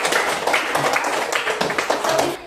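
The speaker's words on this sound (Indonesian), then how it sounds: "Tepuk tangan untuk kita semua dulu lah." Applause in a classroom: a group of students clapping steadily and fairly close for a couple of seconds before it trails off.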